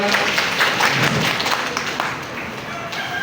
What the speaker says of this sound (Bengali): সকলে আমরা আরও একবার করতালি দিয়ে অভিনন্দন জানাই